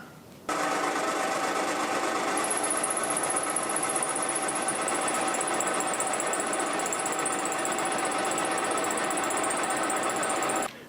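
Milling machine at about 1000 RPM cutting a groove with a 12mm cutter on a 1.5 pass, a steady loud whirring drone with a high whine, starting abruptly and stopping near the end.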